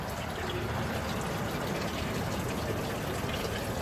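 Distilled water flushing steadily through the cooling system of a classic car, a continuous broad rushing, gushing flow that stays loud and even throughout with no talk over it.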